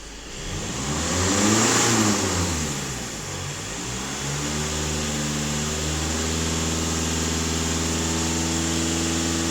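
The engine of a VW Passat B8 revs up from idle, climbs and falls back, then holds a steady raised hum, loud and close with no voices.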